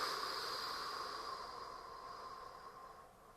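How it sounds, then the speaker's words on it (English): A long, steady exhale during a breathing exercise, heard alone as a soft airy hiss that slowly fades over a few seconds. "And then exhale."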